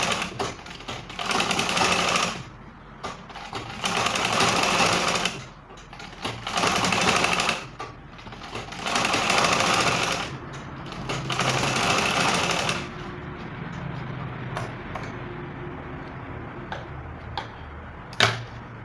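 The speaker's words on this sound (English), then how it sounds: "Then I will push the allowance this way and top stitch it." A sewing machine top stitching the seam allowance on a bustier gown runs in several steady, close bursts of a few seconds each, separated by short pauses, then settles into a quieter, softer run.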